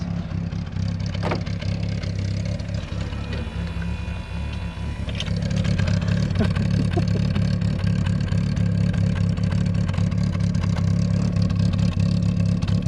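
A car engine running on 70% absinthe runs steadily with a deep, continuous rumble that swells louder partway through, with some clattering and rattling over it.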